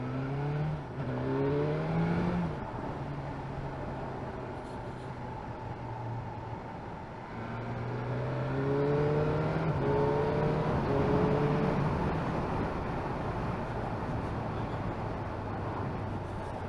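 A BMW S1000R Sport motorcycle with an inline-four engine and chain drive accelerating hard, its engine note climbing through gears in rising sweeps with brief drops at each shift, loud and continuous over wind roar.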